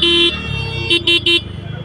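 A TVS Ntorq scooter's horn beeps on a night ride, one longer honk followed by three short blasts, loud and close over the running engine and road noise.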